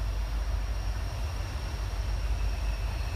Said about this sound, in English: Ah, here comes a train through the woods.